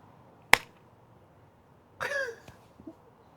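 A single sharp hand clap rings out close to the mic in a quiet room, followed a moment later by a brief vocal sound.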